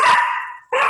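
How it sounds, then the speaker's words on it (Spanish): A small dog barks twice close by: a drawn-out yelp, a short pause, then a second sharp bark, loud and alone with no talking. "Mi perrito está ladrando"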